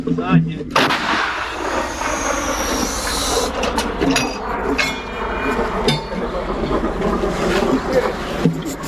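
A loud, booming shot from a British L119 howitzer followed by a long rumbling roar and echoing noise, with people's voices faintly audible beneath it.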